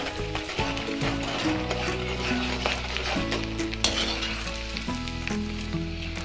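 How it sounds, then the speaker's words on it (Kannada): Dry coconut sizzles steadily in hot oil in a pan for chivda, with repeated scraping and clattering stirs of a spoon against the metal over the continuous frying hiss. "ಕೊಬ್ಬರಿ ಕೂಡ ಸ್ವಲ್ಪ ರೋಸ್ಟ್ ಆಗೋದಂತ ಫ್ರೈ ಮಾಡಿ"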